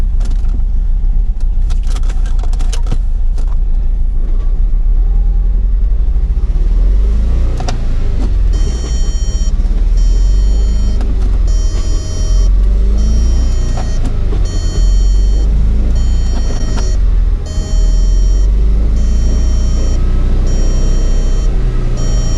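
A 2003 VW Beetle's engine drones loudly from inside the cabin while driving at highway speed, with a heavy low rumble, road noise and a few faint clicks and rattles, no talking.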